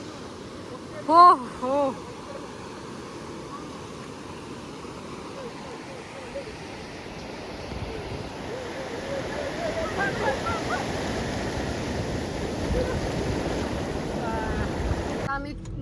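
A big ocean wave washing in on Khavne beach in Kokan, a broad rolling rush of surf that swells over the second half, with short shouts of excitement from people near the start.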